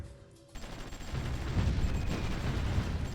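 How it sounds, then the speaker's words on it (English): Artillery bombardment in the strategy video game Supreme Ruler Ultimate starts abruptly after a short quiet moment, then rolls on as a dense, rumbling barrage of overlapping blasts. "That's a lot of bombardment from the units around here."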